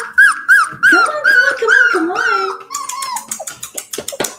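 Puppies whimper and yip close by, high-pitched cries overlapping in a restless chorus, then short sharp yips toward the end.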